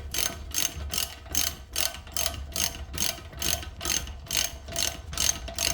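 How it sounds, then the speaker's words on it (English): A hand ratchet clicks in a steady, repeating rhythm of about a dozen short bursts, close and clear, as bolts thread into a rear wheel bearing on a Jaguar XK X150, with no talk over it. "we'll start these off with a ratchet, just to make sure the"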